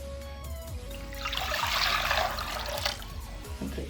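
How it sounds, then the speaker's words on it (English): Water pours from a bottle into a cooking pot, a rushing, splashing fill that swells in the middle and then tapers off, close by over a steady low background hum. "So can you please fill the pot with the water?"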